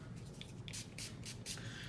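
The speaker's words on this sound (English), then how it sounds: "I'm gonna spray it with my NYX" NYX setting spray misted onto a flat-top foundation brush, several short, close hissing spritzes in quick succession, with no talking.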